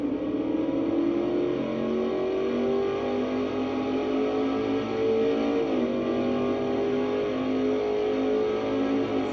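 A race car engine holds a steady high-speed drone through the S-bends at about 155 mph at Riverside in a racing video game, loud and continuous with a brief pitch dip near the middle and no talk.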